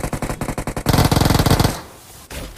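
Rapid automatic fire from an AK rifle in a video game: tight bursts of shots crack out up close and loud, then give way to a sustained rattling stream before fading to quieter background.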